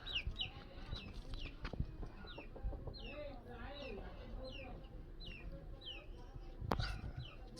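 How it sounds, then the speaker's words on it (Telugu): Chickens cluck and chirp around a farm in repeated short calls, some near and some farther off, with background rustling and a soft thump near the end. "చూడండి, ఇగో కోళ్ళు ఎలా ఉన్నాయో"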